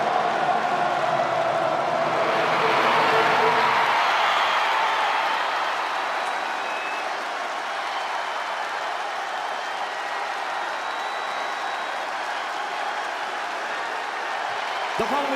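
A large WWE wrestling arena crowd roars and cheers for a wrestler's entrance, a dense continuous wash of noise, louder at first and then settling to a steady roar.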